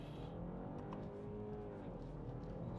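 A 2024 BMW 530e plug-in hybrid sedan's engine revs up with a rising tone, then briefly drops through a quick gear shift, heard from inside the cabin at moderate volume.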